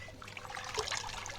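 Water trickles and sloshes softly as a Kadaknath chicken is dipped in hot water for cleaning, a faint, close, short liquid sound with no talk.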